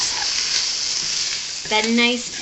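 Sausage browns in a pan for a Thai clam bake, with a steady broadband sizzle throughout, joined near the end by a brief tonal squeal over the frying.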